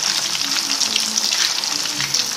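Potatoes frying in hot oil until golden brown for dum aloo, a dense, loud, bright hiss of bubbling oil, close and continuous with no pauses.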